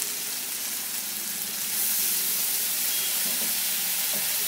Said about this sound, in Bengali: এখন এই সমস্ত মশলাগুলোকে ভালো করে একটু কষিয়ে নেব